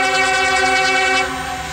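Outbound CSX coal train on the Andrews subdivision near Hamlet Terminal, sounding a loud, steady multi-tone horn chord close by, with the tone dropping slightly toward the end.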